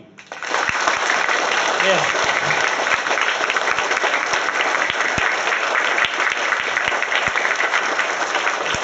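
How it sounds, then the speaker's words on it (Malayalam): A large seminar audience breaks into sustained, loud applause that fills the room from start to finish, steady and dense with many hands clapping at once. "എല്ലാവരും A big clap for me"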